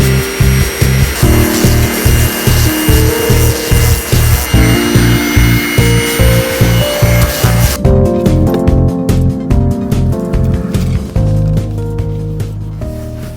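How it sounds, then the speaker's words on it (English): A power tool sands down wood on a boat deck with a fast, rhythmic grinding pulse. The loud, close buzz shifts in pitch partway through as the tool bears down differently. "was to sand it down to get it nice and level with the deck."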